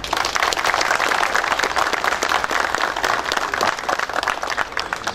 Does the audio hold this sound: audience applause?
yes